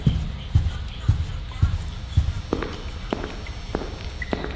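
Footsteps in the horror video game Forgotten Memories thud at a steady walking pace, about one step every half second, followed by lighter, sharper taps and a high electronic tone in the background.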